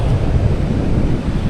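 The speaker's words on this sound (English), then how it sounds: "The tide is coming in, it's windy, it's coming straight off the sea" Strong wind coming straight off the sea at Pevensey Bay on an incoming tide at night, buffeting the microphone with a heavy low roar that blends with the rush of surf on the shingle beach.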